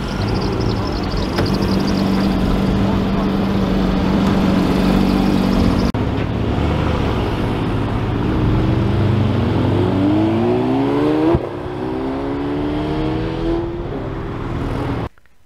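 Porsche Cayman 718 GTS 4.0 flat-six leaving a car park, idling with a steady low rumble and then rising in pitch as it pulls away, heard loud and close from inside the car.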